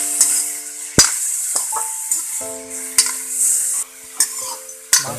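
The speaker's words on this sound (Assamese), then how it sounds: "মাংসখিনি ঘনাই লৰাই" Pork being stirred in a dry wok over a low flame, with repeated sharp scrapes and clanks of a utensil against the pan over a faint continuous sizzle.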